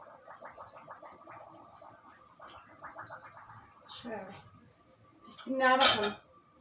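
Water splashes and a metal lid clinks and scrapes while being rinsed, with soft kitchen clatter and a louder splashy burst near the end.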